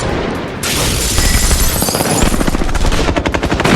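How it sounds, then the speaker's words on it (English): Gunfire from a 2011 film standoff with ATF agents: a dense, loud barrage of rapid automatic bursts and heavy shots that builds into a continuous rattling fusillade, with no voices. "Until Aben Cooper himself fired a shot"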